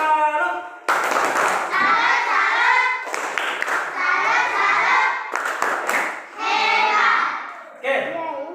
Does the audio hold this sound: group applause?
yes